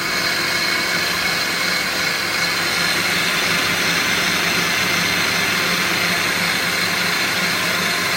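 Electric mixer whipping egg whites with caster sugar for meringue, a steady loud whirring drone that holds constant throughout, close to the microphone, with no talking.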